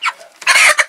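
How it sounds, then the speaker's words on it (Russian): A one-month-old broiler chicken clucks loudly up close in a few short, agitated bursts, with no other sounds around it. "вот отловили мы бройлера"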